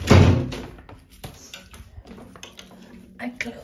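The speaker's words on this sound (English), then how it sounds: "I close the door." A household door shuts with a loud thud at the start, followed by softer clatter and a few faint knocks in a home kitchen.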